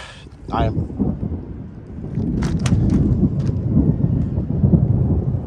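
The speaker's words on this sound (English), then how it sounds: "Some pretty loud thunder right behind me" Deep rumbling thunder rolls through, loud and sustained, from a lightning storm, with a brief burst of voice early on and wind or rain hiss underneath.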